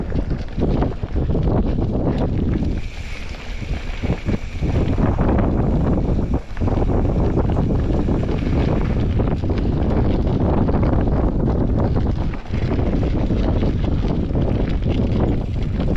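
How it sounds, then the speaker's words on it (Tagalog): Strong wind roars and buffets the microphone continuously, a loud, rumbling rush with brief dips, and no voices. "Oh, sarap ng hangin."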